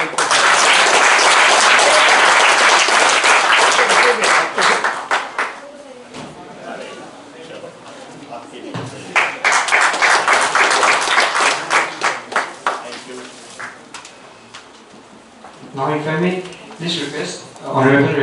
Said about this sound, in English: at least a round of applause